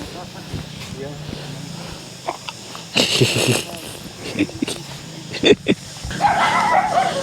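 A small puppy in the Indonesian hills gives a few short, sharp barks and yips in scattered bursts, close by and mixed in with people talking.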